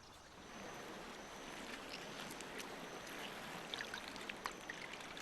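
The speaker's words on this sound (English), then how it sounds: "The Rusizi is a powerful river with a strong current, even near the lake." Broadband rushing water of the Rusizi River flowing fast with a strong current near the lake, a steady wash with a few faint splashes and trickles, no voices.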